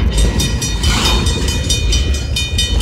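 A northbound log train led by PNWR 3051 rolls past at sunset, a loud, continuous rumble and grinding of wheels on rail close by, with rhythmic clicks as the cars pass.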